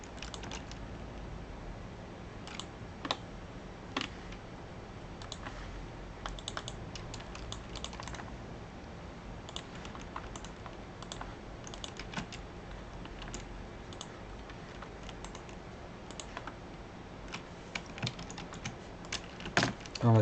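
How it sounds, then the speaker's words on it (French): Steady clicking of computer keys being typed on continuously, close and fairly quiet, with occasional louder taps. "Désolé pour ce bruit de clavier qui commence à me saouler aussi."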